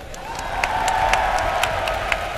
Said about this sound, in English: I got to clap for both those guys.